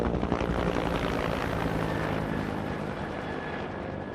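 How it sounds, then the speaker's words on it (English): Firefighting helicopters passing directly overhead near a wildfire in Peachland, a loud steady rotor drone filling the whole span and easing slightly toward the end, with no talk. "You can hear the choppers going right over top of us right now."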